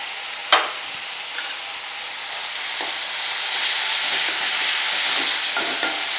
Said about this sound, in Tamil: நல்லா தக்காளி இப்படி வதங்கினோடனே இஞ்சி பூண்டு பேஸ்ட்டு சேர்த்துக்கோங்க